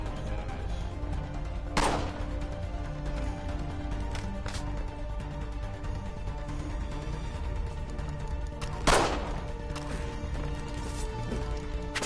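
Pistol shots go off in the Assassin's Creed 3 video game. Two loud, sharp cracks stand out about seven seconds apart over a steady background of game ambience and music, with a brief spoken word.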